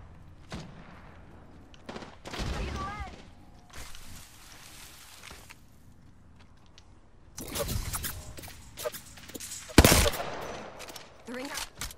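Gunfire in the Apex Legends video game, scattered bursts of automatic shots and single cracks coming in irregular clusters, some close and loud, with quieter stretches and short game voice lines between them.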